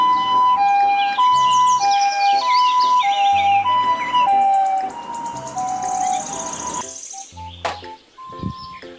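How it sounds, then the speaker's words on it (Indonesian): Toy ambulance siren: a loud electronic two-tone wail alternating in steady cycles, then shifting to chirpy warbling beeps and brief tones toward the end. "Mobil ambulans."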